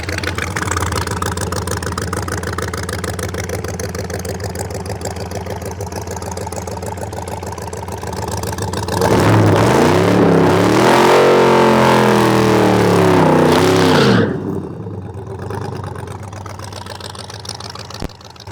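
An 1100-horsepower Redeye-swapped Plymouth Cuda idles with a rough, steady rumble, then bursts into a loud, close full-throttle roar with rising pitch as the tires spin for several seconds before the engine cuts back to idle.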